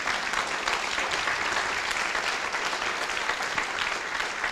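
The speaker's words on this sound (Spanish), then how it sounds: "Denle un aplauso para que la gente vea que sí están acá." Audience applause from a church congregation fills the space, a dense, even wash of clapping that stays steady and fairly loud throughout.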